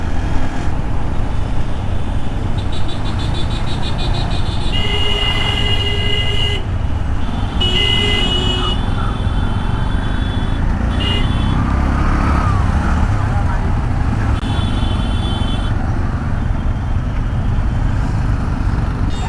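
Dense road traffic in a jam, heard from a motorcycle, rumbles steadily with engines close by while several car and auto horns toot in short bursts over the noise.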